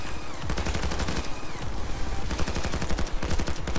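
Dense, sustained gunfire from an enemy turret in the Payday 2 video game, loud rapid bursts of shots hammering continuously throughout with no talk.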